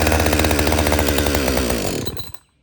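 Modern chainsaw engine sputtering as it tries to start, a loud, rough buzzing run of about two seconds that quickly dies away into silence.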